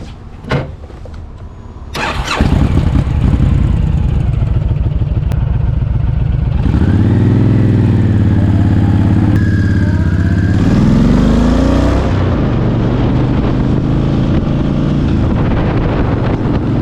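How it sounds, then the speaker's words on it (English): A Honda Fury motorcycle rides through a canyon in the fall, its engine loud and close after a short start, droning steadily with a shift in pitch partway through, under constant wind rush. "It's just me riding the canyon in the fall on a Fury."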